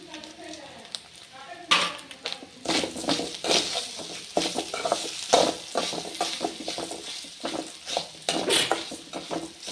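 Grated coconut with curry leaves sizzling in a pan while a spoon scrapes and stirs in irregular strokes, with a voice speaking intermittently nearby.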